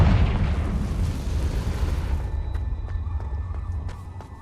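The Confringo spell explodes in the video game Hogwarts Legacy with a loud, close blast and a rumbling boom that decays over a few seconds, followed by scattered crackles and small debris pops.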